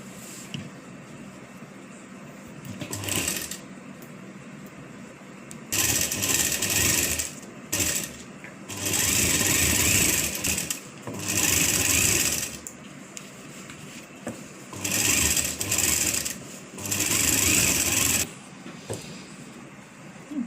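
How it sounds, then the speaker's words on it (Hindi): Bursts of a sewing machine running in short and longer runs while stitching kurti shoulder seams together, whirring stops and starts at close range with quiet pauses between. "कुर्ती को जो हमने इस तरीके से कटिंग की थी इसको यहाँ कंधे पे दोनों साइड से जॉइंट कर देंगे।"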